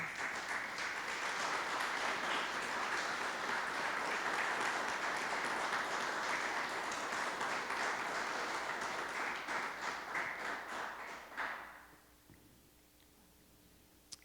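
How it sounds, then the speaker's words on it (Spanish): A church congregation bursts into strong applause praising the Lord, thick clapping for about eleven seconds before it quickly dies away into near silence. "Dale un aplauso al Señor."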